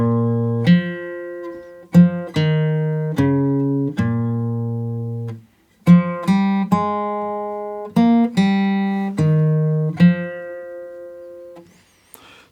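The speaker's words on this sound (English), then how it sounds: "It's just one guitar playing like the vocal melody" A single guitar in standard tuning plays the vocal melody of a song, clear plucked notes ringing out one at a time in a steady, unhurried line, fairly loud and close with no voices.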